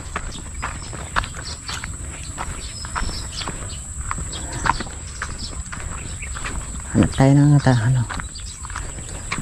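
A carabao walks near water, its hoofsteps clopping as irregular thuds over steady insect buzz, and someone speaks briefly near the end.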